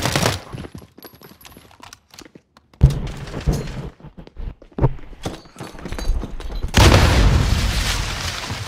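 In a first-person shooter match, a loud blast bursts in after quiet clicks and scattered thuds, followed by a sustained roaring rumble of an explosion that fills the final seconds.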